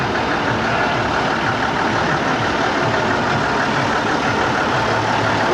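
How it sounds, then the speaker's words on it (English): A 1956 Scammell truck engine idles nearby at a steady, loud, rough rumble with a knocking texture, running continuously without speech. "This is the 1956 Scammells."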